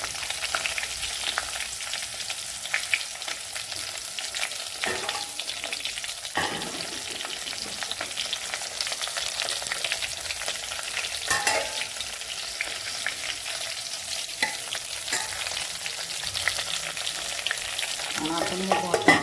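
Stuffed brinjal (Malvani-style) sizzles and fries steadily in a pan, a continuous crackling hiss with occasional sharper pops and stirring scrapes, close and fairly loud, with no talking.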